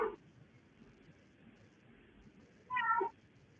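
A house cat gives one clear, moderately close meow near the end, after a brief faint start, against a quiet room with no talk.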